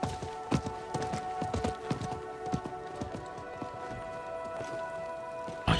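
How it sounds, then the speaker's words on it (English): Hooves of a merchant's horse clip-clop at a steady trot in a Diablo 4 cutscene, the repeated strikes close and clear over a faint ambient hum. "I think that was the merchant's horse."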